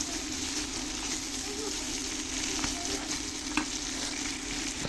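Gagra leaves fry in a pan with dried kholisha fish, producing a constant close sizzle and hiss with faint stirring clicks and no pauses.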